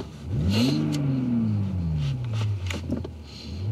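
A 2021 Toyota Supra's 3-litre turbocharged six-cylinder engine, rated at 382 horsepower, revs up close by, then winds down in one long drawn-out fall, with no talking.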